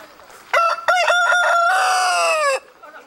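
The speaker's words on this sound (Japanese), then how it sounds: "これは名古屋名物の名古屋コーチンでもあります" A Nagoya Cochin rooster crows once, close and loud, a long harmonic call of about two seconds with a few short bursts at the start, over a quiet outdoor background.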